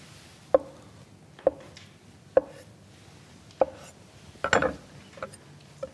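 A knife slices vegetables in half and then into thick pieces. Five crisp, evenly spaced chops ring out close and clear, followed by a quicker cluster of cuts near the end.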